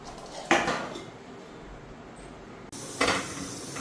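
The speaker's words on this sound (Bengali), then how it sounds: "এদিকে কড়াই বসাইলাম" A metal wok (kadai) is set down on a kitchen stove, making two sharp metallic clanks a few seconds apart, with quiet kitchen background between them.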